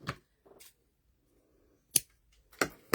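Scissors cutting through stretched-out old elastic with several crisp snips, a couple early on and a quick cluster near the end, close and clear against quiet, with no talking.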